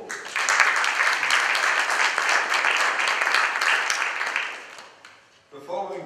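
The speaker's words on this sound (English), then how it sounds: "give them a round of applause" Audience applause fills a community organisation meeting, a dense steady round of clapping that fades after about five seconds before a voice begins speaking.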